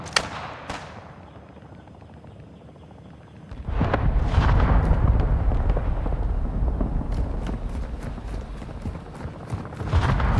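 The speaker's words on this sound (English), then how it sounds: "Hostiles launched a mortar strike." Mortar strike explosions in Call of Duty: Modern Warfare 2. Two sharp blasts open the clip, then after a quieter stretch a loud, rumbling barrage rolls in, with a string of rapid crackling impacts near the end.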